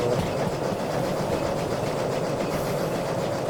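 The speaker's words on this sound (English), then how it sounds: "Come on, train," Overloaded steam locomotive straining to haul a heavy train in the game Derail Valley, a steady rumbling chuff with rhythmic clatter, moderately loud and continuous, no voices.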